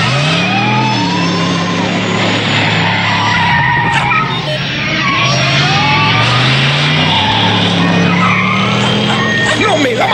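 DeLorean accelerating with screeching, skidding tires in a Back to the Future film scene, loud and continuous with a revving engine, shouting voices mixed in.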